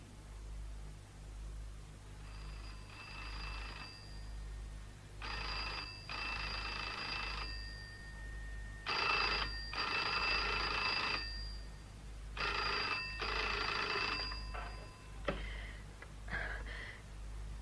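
Telephone bell ringing in a radio drama, repeated double rings in regular bursts over a low steady hum, moderately distant, with pauses between each pair.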